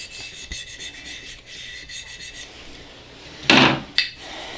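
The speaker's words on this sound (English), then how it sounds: "I do have a felt-sided scraper, so I'm going to give it just a little bit of a rub down here." A felt-sided scraper rubbing down a vinyl bottle label, soft close raspy strokes, then one louder sharp scrape and a brief final swipe.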